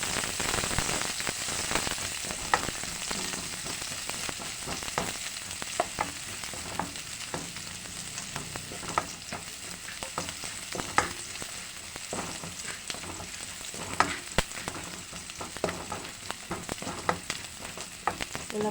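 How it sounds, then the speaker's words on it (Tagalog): Onions sauté in a pan for ginataang papaya with pork, producing a steady, close crackling sizzle throughout with scattered sharp pops and occasional stirring scrapes. "Pula-pulahin lang po natin ng konti ang sibuyas."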